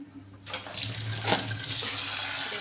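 Lentils being washed under a running kitchen tap: water gushes on abruptly and keeps pouring steadily, splashing and swishing in a bowl or sink, close by and with no talk.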